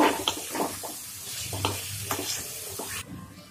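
Chicken frying with garlic and ginger paste and chopped green chilli for posto chicken, stirred in a pan: steady sizzle broken by repeated spatula scrapes and clinks, close and fairly loud, with no talk.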